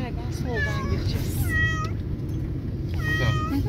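A cat meows three times, up close and insistent, over a low rumbling background.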